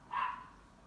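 A single short, sharp yap from a small dog, fairly faint against a quiet room.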